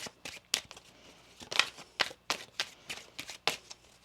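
Tarot deck shuffled by hand, close and crisp, with irregular quick riffles and card snaps over a few seconds and no voice.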